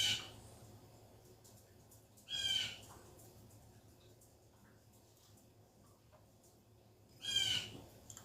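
Bird calling from just outside a window, two distinct bursts of high chirping a few seconds apart over a quiet room background.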